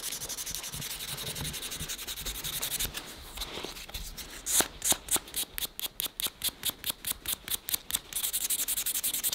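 Sandpaper of 180 grit rubbed over a Loctite-filled knife handle, a close dry scratching that settles into a quick regular series of back-and-forth strokes, each one crisp and distinct.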